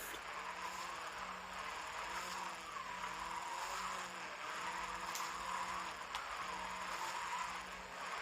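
Tires squeal and skid continuously as a car drifts through a corner in Forza Horizon 5, an unbroken screech over a steady engine drone with no talking.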